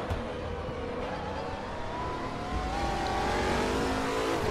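A race car engine in the RaceRoom racing game drones continuously and rises in pitch as the car accelerates, loud and sustained throughout.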